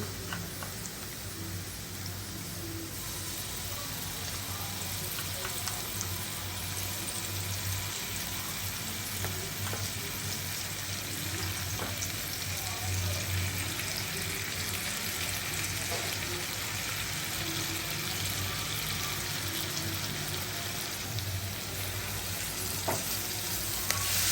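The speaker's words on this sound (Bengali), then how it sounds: "ভাজা হয়ে গেছে, এখন আমি রসুন বাটা দিব।" Garlic paste sizzling with lightly fried chopped onions in a pan while making a fish and chicken bhuna, a steady hiss held at an even level throughout with occasional faint clinks.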